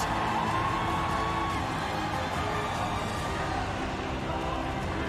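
Home crowd cheering for a team winning an international mobile esports championship, a dense continuous roar of shouts and whoops filling the arena at steady volume throughout.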